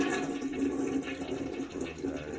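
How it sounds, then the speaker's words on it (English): A Mansfield toilet is flushed, producing a continuous rushing, gurgling water sound up close that holds steady throughout with no speech. "Let me flush this."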